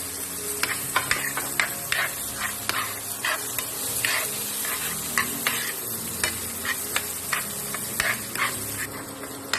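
Garlic, onion and ginger sauté in oil as the base for a Filipino pork blood stew, dinuguan, with a steady close sizzle under repeated rhythmic scrapes of a spatula stirring the pan, and no talking.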